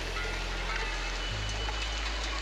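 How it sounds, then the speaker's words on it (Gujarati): Heavy rain pours down in a steady, dense hiss with no breaks, along with a low background hum. "પાછો વરસાદ બહુ પડે છે"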